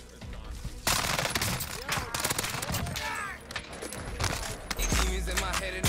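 Bursts of automatic gunfire and rapid shots in the video game Call of Duty Warzone, loud and dense across the moment with game effects layered over it.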